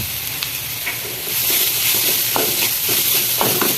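Capsicum and onion with spices sauté in a pan, producing a steady close sizzle that swells slightly partway through, punctuated by light scraping stirs of a spoon.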